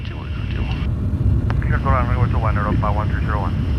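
A heavy airplane drones overhead with a steady low rumble, while a high tone and a brief click sit above it and voices talk over the noise.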